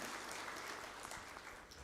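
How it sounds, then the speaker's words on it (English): Steady applause from a conference audience at a public service commissions general assembly, a dense continuous wash of clapping at even loudness throughout, with no voices on top. "Let's give them a clap."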